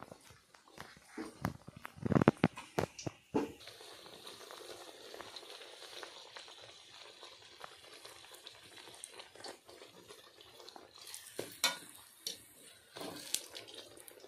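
Pea-filled kochuri frying in hot white oil in a wok, a steady bubbling sizzle with louder crackling bursts at the start and again near the end, close by.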